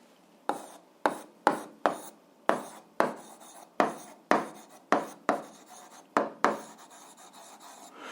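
Pen strokes on paper tap and scratch in a quick irregular series of about a dozen short, close strokes, writing out a line of an algebra solution by hand in a quiet room.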